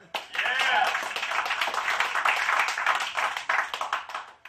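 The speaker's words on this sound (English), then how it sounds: "I like how you clapped" A live audience claps in a burst of steady, dense applause that fills the room, loud and close, thinning into scattered claps toward the end.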